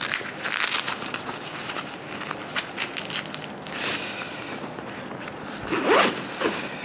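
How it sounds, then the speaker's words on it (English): A GORUCK 30L ripstop gym bag in Earth Orange has its zipper pulled shut in several quick rasping runs, close by, mixed with crinkling fabric and a louder final zip near the end. "zip that up"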